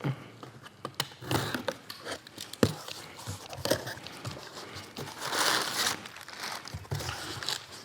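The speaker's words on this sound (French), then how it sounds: "On va pouvoir ouvrir notre carton avec les pièces qu'on a commandées. Déballer nos pièces qu'on a reçues." A cardboard box of ordered parts for a Lombardini Progress diesel injector kit is torn open and unpacked, with close crinkling, tearing and scattered crunchy handling noises coming in uneven bursts.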